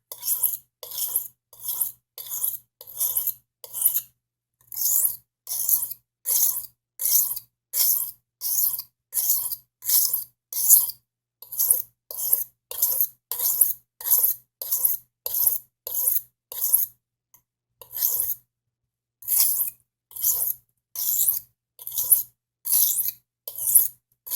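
A stainless steel Dollar Tree knife edge is fine ground with dozens of rhythmic rasping strokes in an even back-and-forth cadence, close up, with a short pause early on and another later.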